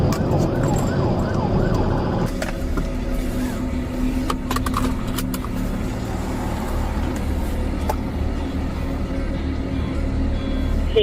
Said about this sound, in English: She has lights and sirens on